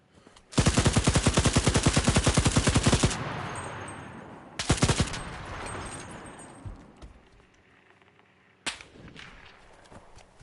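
Enemy shots in the video game CRSED come as a loud, fast burst of automatic fire lasting over two seconds, then a shorter burst, then one late crack, with quieter rattles in between.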